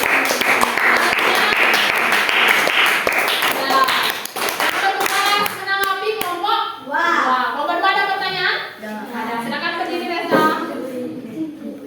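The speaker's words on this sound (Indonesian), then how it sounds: "Silakan tepuk tangan dulu untuk kelompok 3." A classroom applauds a student group during a school science lesson on the circulatory system. Sharp claps come first, then children's voices and chatter take over.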